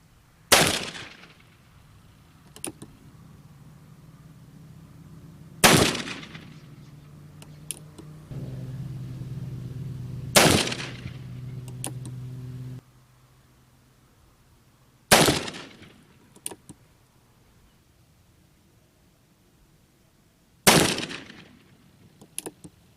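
An Uberti 1860 Army black-powder revolver fires five loud, sharp shots spaced several seconds apart, each followed by a short decaying echo, with faint handling clicks and a brief low hum between shots.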